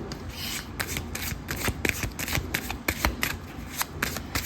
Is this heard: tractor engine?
no